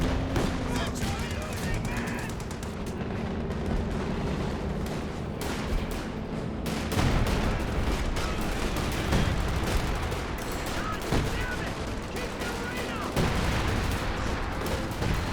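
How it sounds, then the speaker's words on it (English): Dense battle gunfire from Company of Heroes 2, including M1919 machine guns, rattles in continuous bursts with booms mixed in, loud and constant under a commentator's ongoing talk. "And the paratroopers M1919s can fire while moving as well."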